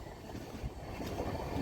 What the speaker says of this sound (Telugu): స్లోగా స్కిప్ అవుతుందండి కరవది రైల్వే స్టేషన్